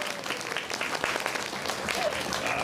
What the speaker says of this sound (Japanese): みんな拍手しようぜ。